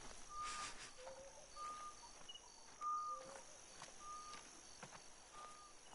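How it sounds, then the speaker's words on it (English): Bird calls from the hunting game TheHunter: Call of the Wild, a few short, repeated chirps and whistles spaced through a faint, steady ambient bed with a brief louder call near the middle. "All these spoopy birds,"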